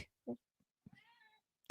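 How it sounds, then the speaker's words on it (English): A cat meows in short bursts, a couple of brief calls close by, the last one loud and abrupt, with quiet gaps between them. "I wonder how much of the meowing you can actually hear"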